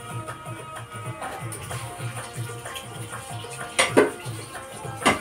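Water runs steadily from a tap while things are washed beneath it in a home kitchen during dessert preparation, with soft clinks and a couple of louder knocks near the end.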